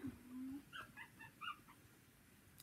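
Newborn puppies whimper softly, a few faint high whines and yips close by in a quiet room.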